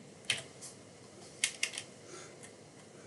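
Soft keystrokes on a computer keyboard while setting up a keyboard mapping in VirtualDJ 8.5 DJ software: a few sharp taps spaced irregularly over a quiet room background, close and fairly faint, with no talking.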